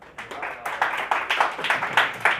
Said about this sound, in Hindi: तालियों की गड़गड़ाहट सुनना चाहता हूँ।